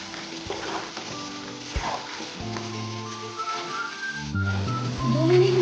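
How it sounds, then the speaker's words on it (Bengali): Potatoes frying with turmeric in a pan for a Bengali cauliflower-potato curry, a gentle sizzle with occasional stirring scrapes, quiet and close, under soft background music. "একটু আলুগুলোকে ভেজে নেব।"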